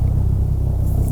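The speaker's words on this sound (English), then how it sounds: "That's a helicopter, Seth." A helicopter flies overhead as a steady, loud low rumble with a faint rhythmic beat, heard alone without talk.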